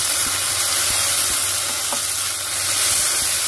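Ginger pieces and curry leaves sizzle steadily in a hot pan as a tomato goes in, a close, continuous frying hiss with a few soft clicks and stirs.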